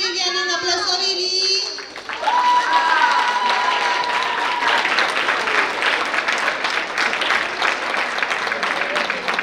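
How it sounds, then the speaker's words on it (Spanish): Audience applause for a participant at an event, starting after a brief stretch of voices and music, then a loud sustained burst of many hands clapping with crowd noise and some children's voices. "un aplauso a Vivi."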